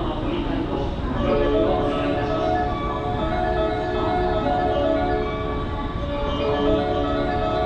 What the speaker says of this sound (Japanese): 5番乗り場に電車が進みます